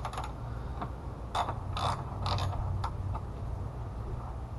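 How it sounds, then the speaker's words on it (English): A ratchet loosening a 10 mm bolt on a Honda air box, a series of small clicking turns with faint mechanical creaks, close and quiet over a low steady hum. "So we remove this bolt."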